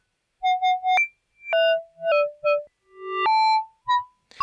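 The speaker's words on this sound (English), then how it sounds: "it will transform a very percussive sound into its reversed copy" Analog synth notes processed into a fake reversed effect, each tone swelling in and cutting off abruptly, a sparse run of clean pitched blips in near silence.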